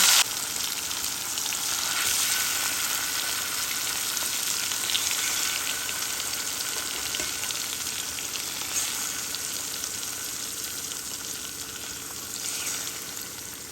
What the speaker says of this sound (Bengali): এখন আমি আর দেরি না করে মাছগুলোকে একে একে করে বসিয়ে দিচ্ছি